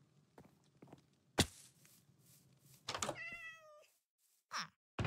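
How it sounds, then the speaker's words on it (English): A cat in a video game village gives one clear, wavering meow in the middle, set among footstep-like thumps and sharp clicks, fairly close and moderately loud. "I hear a cat."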